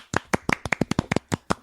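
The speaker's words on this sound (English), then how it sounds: "Can we please give an applause for Susan Blomart as Mr. Kaplan, please?" Sparse, uneven hand claps, about a dozen sharp slaps spread over under two seconds, close by, like a small group briefly applauding.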